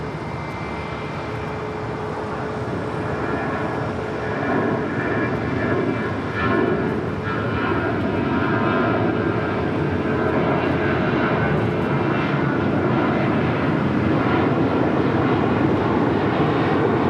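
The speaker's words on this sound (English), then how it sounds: "Arriving here on the south side, coming in from Chicago O'Hare, United Airlines Flight 2430 on the 787-10 Dreamliner." A United Airlines Boeing 787-10 Dreamliner arriving from Chicago O'Hare at Los Angeles airport produces a sustained, loud jet engine roar that swells slightly and holds steady for the whole stretch.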